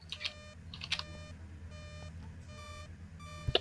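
Repeated electronic beeping from a small device during a ghost hunt, sounding in short bursts about every half second over a steady low hum, alone without talk.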